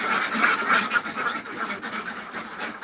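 Several ducks on a duck farm quack loudly and repeatedly indoors, overlapping in a busy, continuous chorus close by.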